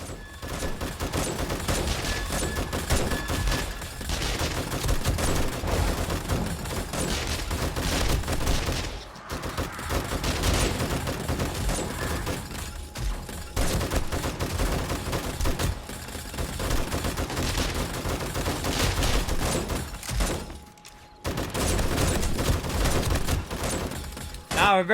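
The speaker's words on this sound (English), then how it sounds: "a very heavy machine gun that I'm using" A heavy machine gun in the video game 7 Days to Die fires long, dense, loud automatic bursts, pausing briefly twice, with a voice partly heard over the shooting.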